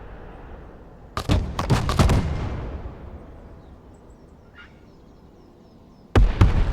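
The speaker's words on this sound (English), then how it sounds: "Mortar ready to engage, sir." Mortar rounds firing in the Broken Arrow war video game: a cluster of sharp, loud launch thumps around one to two seconds with a decaying rumble tail, then another abrupt burst near the end.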